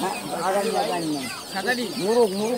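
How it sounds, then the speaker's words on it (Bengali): Chickens and roosters cluck and call repeatedly at a busy village poultry market selling ducks and fowl, several birds close by in overlapping, uneven bursts. "বেশি পরিমাণে মোরগ মুরগি হাঁস উঠেছে।"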